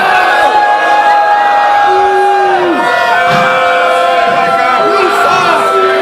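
A wrestling crowd at an RCW show cheers, whoops and chants loudly for their champion, many voices rising and falling in waves throughout.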